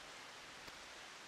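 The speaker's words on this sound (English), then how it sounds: "It's kind of shit right now because it's raining" Steady broadband hiss of rainfall in Final Fantasy XIV, a continuous even wash at very low level with no talk over it.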